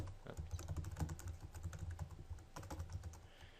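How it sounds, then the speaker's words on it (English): Quick bursts of typing on a computer keyboard, keys tapping in rapid close-up clusters with short pauses, fairly quiet. "So let me type that in here"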